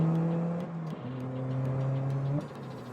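A Lotus Elise engine drones at steady revs, its pitch stepping up between gear changes, loud and close with no voices, in a cabin with no soundproofing.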